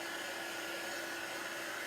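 A steady, loud whooshing blast of air from a heat tool, continuous and close with no variation.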